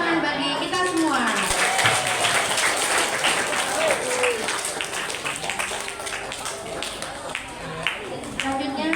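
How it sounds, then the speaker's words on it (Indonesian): Applause from the audience at a school assembly, a dense, steady patter of many hands clapping for the whole stretch, with a voice speaking over it. "Tepuk tangan bagi kita semua."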